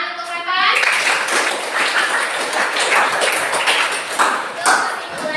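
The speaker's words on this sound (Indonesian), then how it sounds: "tepuk tangan untuk Rifan." Students clap in a classroom for a classmate, a dense, close burst of applause lasting several seconds with children's voices mixed in.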